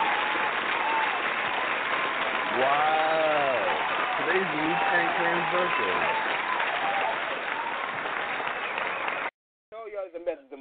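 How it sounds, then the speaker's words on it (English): On a radio show, a crowd's applause rolls on continuously beneath someone talking, then cuts off abruptly near the end. "The same day, round of applause."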